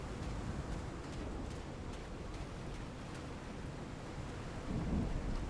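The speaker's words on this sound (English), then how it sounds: "Love the sound of storms too much," Steady, dense rumble of a thunderstorm with heavy rain and low rolling thunder, swelling slightly louder near the end, with no voices.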